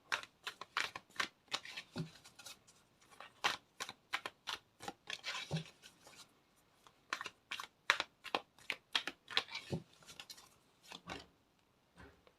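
Tarot cards are handled during a reading, making close, dry clicks and papery slaps in quick irregular clusters with short pauses between, and no talking.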